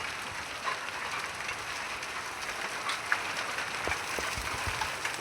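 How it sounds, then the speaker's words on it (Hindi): Steady, dense rattle of hailstones pelting the ground and roofs in a Rajasthan village, with a few louder knocks standing out from the continuous clatter. "कड़े की बारिश हो रही, कड़े की।"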